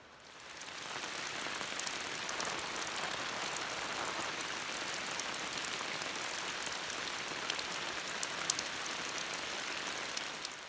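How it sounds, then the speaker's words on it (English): Steady rain falls in a continuous hiss, heard alone at moderate volume, with a few sharper drops tapping nearby. "Well, the rain has arrived."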